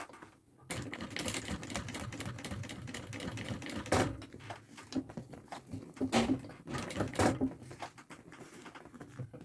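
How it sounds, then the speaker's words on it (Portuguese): Sewing machine stitching a thermal backpack up close, quick rhythmic runs of stitching broken by short stops and handling noises, fairly quiet. "Então agora eu vou costurar aqui."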